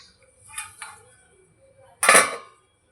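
A metal lid clatters onto a cooking pot holding spinach, potato and pea vegetable curry, with a couple of light clinks first and then one sharp, close clang.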